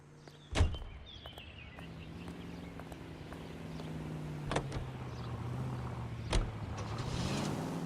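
A police car in L.A. Noire drives off at a steady engine hum. A sharp door thunk opens the clip and two more knocks come later, with the motor rising in pitch as it pulls away.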